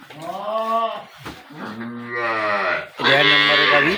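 A dairy cow at a cattle market moos three times, loud and close, each long low call separated by brief pauses.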